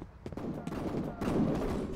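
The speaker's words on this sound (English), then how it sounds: "Oh, I hear gunfire." Gunfire in the video game F.E.A.R. rattles in the distance, a string of muffled bursts and shots, fairly faint and continuous against low game ambience.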